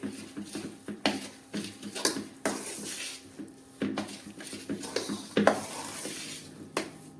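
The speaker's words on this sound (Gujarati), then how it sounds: "દૂધ નાખ્યા પછી સારી રીતે આ રીતે ચલાવી લઈએ" Milk being stirred into a sukhdi mixture in a pan, a spoon scraping and swishing in repeated strokes with a light sizzle underneath, close and clear with no talking.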